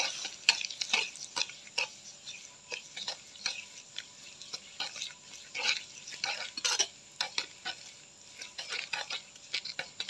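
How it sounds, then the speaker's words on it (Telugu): A whisk stirs powdered sugar mixture in a bowl for a chocolate cake, giving steady soft scraping and light clinking strokes against the bowl at a quick, uneven rhythm, fairly quiet and close. "ఇది మంచిగా ఇట్లా విస్కర్తో మంచిగా మిక్స్ చేసుకుందాం"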